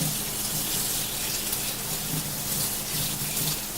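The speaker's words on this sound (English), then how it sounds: "So I am getting all the breadcrumb off my hands by washing my hands." Tap water runs in a constant close gush into a sink while hands are washed with soap to scrub off sticky breadcrumbs, a steady rush with no talking.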